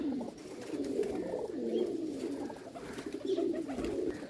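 Pigeons kept on a rooftop cooing in low, soft, rolling calls that continue without a break, fairly faint against a steady background.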